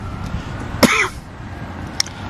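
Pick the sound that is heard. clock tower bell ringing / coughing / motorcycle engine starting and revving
coughing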